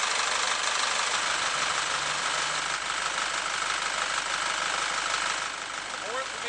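An Isuzu 5.2-liter four-cylinder 190-horsepower turbocharged diesel in a 2006 Chevrolet W5500 box truck idles with a steady, rough rumble and faint knocking, running continuously throughout.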